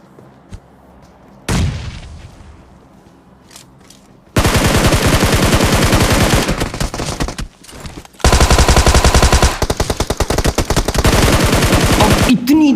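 Heavy machine-gun fire in a battle royale video game erupts after a few isolated shots, loud sustained automatic bursts near and intense with brief breaks between volleys.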